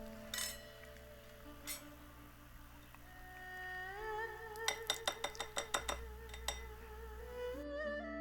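Orange muffin batter being beaten in a bowl, with scattered metallic clinks and then a quick run of rhythmic taps against the bowl over a faint low hum, fairly quiet overall.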